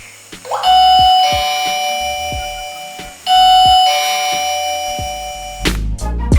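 Doorbell chime from the speaker of an Onassis T62 Pro smart door lock: a loud, clear multi-tone ding-dong melody played twice in a row, with a few sharp clicks at the end.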